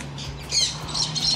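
Grown parrots at a parrot farm give loud, harsh squawks in several bursts over a low steady hum, close by and with no talk.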